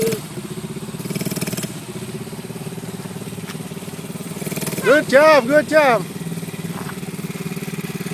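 A child's first motorcycle runs at a steady idle with a continuous low engine drone throughout, while nearby voices cheer and talk over it midway.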